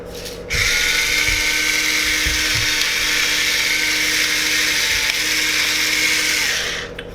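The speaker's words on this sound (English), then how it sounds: "Really good crack of black pepper" A pepper mill grinding black pepper over homemade prawn and crab ravioli, giving one continuous close whirring grind that starts abruptly and holds steady for several seconds before easing off.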